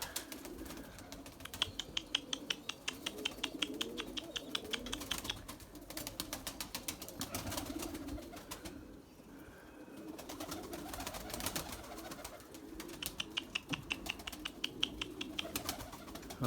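Erzurum white purebred breeding pigeons cooing in a loft at sunset, a steady low murmuring coo running through most of the stretch with repeated light ticking and clicking sounds in bursts.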